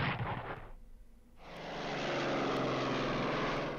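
A propeller aircraft in the World War II strategy game Strategic Command WW2, a loud, steady engine drone that cuts out briefly, then swells back to a full, sustained roar.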